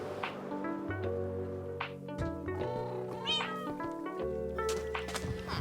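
A Minecraft cat meows repeatedly in short, close calls over layered game music.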